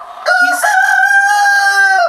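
A chicken near its roost gives one loud, drawn-out call, close by and clear, more like a sustained crow than short clucks, with no talking over it.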